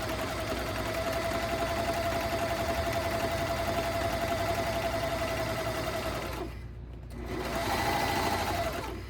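Sewing machine stitching a hem on very stretchy pants, running as a steady close whir for about six seconds, cutting out briefly, then starting up again.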